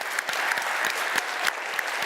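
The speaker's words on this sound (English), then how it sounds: "Let's give them a very big round of applause." Conference audience applauding for speakers and organisers, dense continuous clapping with a few sharper individual claps standing out.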